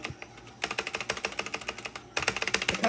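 Loud mechanical keys clatter on a Black Shark gaming keyboard, a brief sparse tap or two, then rapid, evenly spaced keystrokes in two bursts separated by a short pause, close and crisp with no talking.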